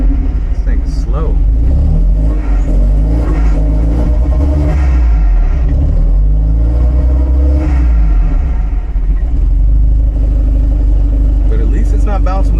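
A 1975 Volvo 245 wagon with a 16-valve turbo engine, running rich at idle, is slowly given gas and revs up with a loud, steady rumble, rising and falling over several seconds as someone talks close by.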